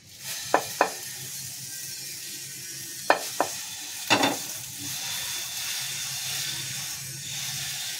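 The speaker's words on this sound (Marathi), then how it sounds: "गॅस स्लो करून मग तुम्ही डोसा टाका." Dosa batter hits a hot pan and sizzles, a steady hiss with a few sharp clinks of a spoon spreading it, close and unaccompanied by talk.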